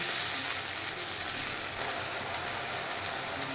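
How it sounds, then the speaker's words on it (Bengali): Spice masala sizzles steadily in a hot pan, a dense continuous crackle and hiss at even loudness from start to finish, with no voices. "এবার এই মশলাটা আমি একটু ভালো করে ভেজে নেব।"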